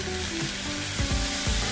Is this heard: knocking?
no